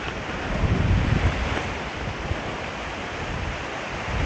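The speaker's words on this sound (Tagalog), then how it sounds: "Ay, grabe ang lakas ng hangin." Strong monsoon wind roars steadily at a rural field in heavy weather, a dense constant rush buffeting the microphone with gusts swelling early on, and no voices heard.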